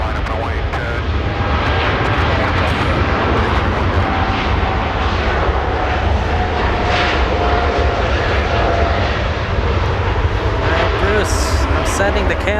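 Jet aircraft engines roaring continuously at Los Angeles International Airport, a loud broad rumble with a voice talking over it.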